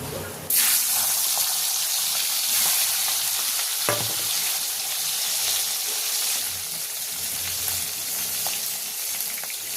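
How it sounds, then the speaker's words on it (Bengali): Hilsa fish pieces coated in salt and turmeric fry in hot oil in a wok, giving a loud, steady sizzle that starts abruptly and continues throughout, with a few clinks of a utensil. "এবারে হলুদ মাখানো, নুন হলুদ মাখানো ইলিশ মাছটা ভেজে নিচ্ছি।"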